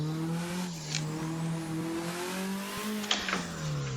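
A car's engine pulls steadily in second gear around the Okuibuki track, its tone slowly rising and falling with throttle, close and continuous, with a couple of brief knocks and a short tire scrub.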